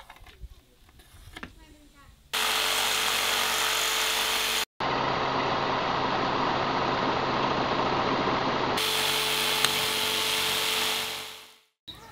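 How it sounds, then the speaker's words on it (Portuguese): A power tool cuts reclaimed wood for a Kombi camper build. Someone talks briefly, then a loud, steady motor whine runs for several seconds, stops for a moment, resumes and winds down at the end. "Então agora eu vou seguir cortando mais umas partes."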